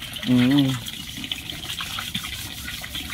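Water runs steadily from a faucet during pot washing, a constant rushing flow close by, with a brief voice heard near the start.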